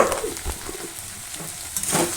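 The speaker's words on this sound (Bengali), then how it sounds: "পাঁচ মিনিট পর্যন্ত আমি এই শশাটা কষবো।" Cucumber pieces stir-fry in a pan, with a soft, continuous sizzle and a few light spatula scrapes and knocks, close and moderately quiet.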